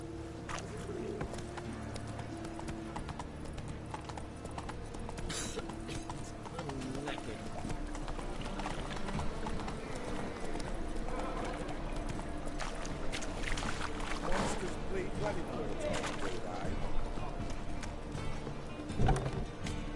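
Horse hooves clip-clop steadily beneath a rider in The Witcher 3, a continuous trotting rhythm alongside game ambience, with voices talking over it.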